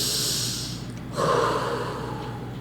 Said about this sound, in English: Take a nice breath.